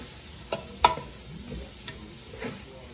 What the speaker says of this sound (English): We'll let these onions cook until they become somewhat translucent